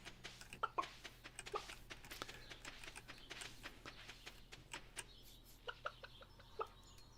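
Chickens cluck in the Stardew Valley video game, faint scattered clucks and short calls over a quiet background hum, with soft clicks in between and no talking.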